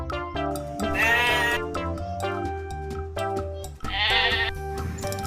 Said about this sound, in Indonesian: Ini ada kambing teman-teman.